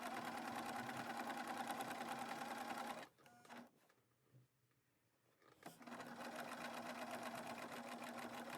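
A sewing machine runs a zigzag stitch on a gown bodice, whirring loudly and steadily, pausing for a few seconds, then resuming at the same even speed.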